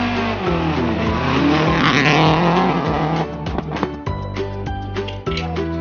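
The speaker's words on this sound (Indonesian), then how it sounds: "mobil balap berwarna biru" A blue toy race car gives off continuous electronic engine and revving sounds with wavering tones, loud and close, with no one speaking.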